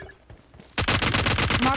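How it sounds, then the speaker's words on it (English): Rapid gunfire in a video game, a sudden burst of repeated shots that starts after a quiet moment and keeps a fast, steady rhythm, loud and close. "Okay, here's some gunshots here."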